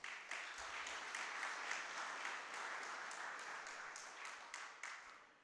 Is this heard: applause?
yes